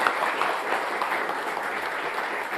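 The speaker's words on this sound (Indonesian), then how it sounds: "Tepuk tangannya boleh, hadirin sekalian" Audience applause at an Indonesian public forum on rebuilding Aceh, Sumbar and Sumut, a steady, dense wash of clapping from a seated crowd, sustained and even throughout without any voice above it.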